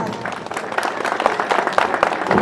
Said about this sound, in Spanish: Y esas palmas,